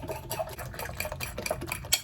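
Quick, rhythmic tapping and scraping in a bowl, like eggs being whisked briskly, fairly quiet and close, with a sharper clink near the end.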